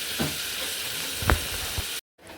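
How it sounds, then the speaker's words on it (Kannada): Carrot, capsicum and tomato fry in a pan, making a steady close sizzle with a few soft spatula scrapes and knocks for about two seconds before cutting off abruptly. "ಆಮೇಲೆ ಕ್ಯಾರೋಟ್ ಮತ್ತು ಮೆಣಸು ಕ್ಯಾಪ್ಸಿಕಮ್ನ ಹಾಕ್ಕೊಂಡು ಹುರ್ಕೊಳ್ಬೇಕು"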